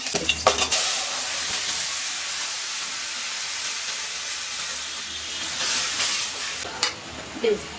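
Green chilli fries in hot oil with greens being stirred in a home-style village kitchen, a steady loud sizzle with scraping stirs at the start and end, no voices.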